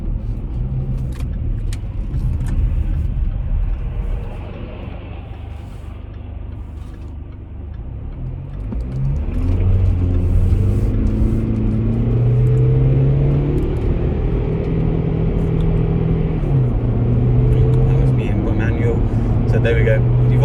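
Jaguar F-Pace 2.0L Portfolio AWD accelerating onto a motorway, with engine drone and road noise building as the revs climb and gears change, heard from inside the car while a person talks throughout.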